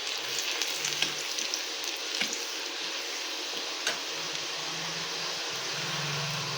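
Chopped garlic frying in hot oil in a pan, a steady bright sizzle throughout with occasional stirring clicks and scrapes, close and moderately quiet with no talking.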